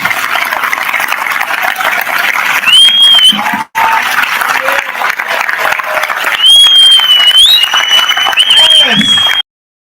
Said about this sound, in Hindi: आइए प्रभु के लिए अच्छी ताली बजाएंगे